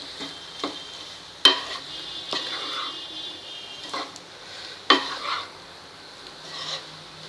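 Potato sabzi (batata bhaji) is stirred in a pan with a spatula, producing several distinct scraping strokes at irregular intervals over a faint background sizzle. The strokes sound close, and no one talks.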